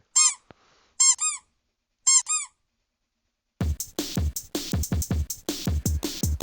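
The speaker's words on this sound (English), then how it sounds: "These squeaky toy sounds that they're emitting is somehow hilarious because again the game is called Sprunkers." Squeaky toy sounds from clicking character icons in the video game Sprunkers: several paired high squeaks, then a gap, followed by a rapid rhythmic run of beat-like sounds from the game.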